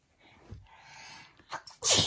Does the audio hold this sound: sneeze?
yes